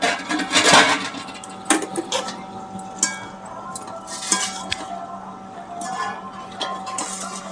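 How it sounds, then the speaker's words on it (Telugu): A pot lid comes off and a spoon stirs tomato chutney on the stove, giving scattered metallic clinks and scrapes at irregular intervals over a low, quiet kitchen background. "ఒకసారి మూత తీసి కలుపుకుందాం ఉడికిందో లేదా."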